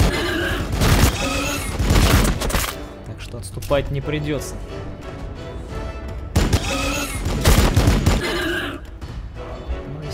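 Bursts of heavy gunfire and booms from units in the Warhammer 40000 Battlesector video game, coming in clustered volleys near the start and again later, with someone talking over the battle.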